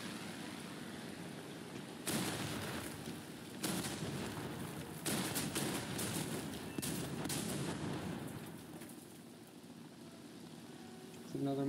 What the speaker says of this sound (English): I'm telling you, they dropped off bombs.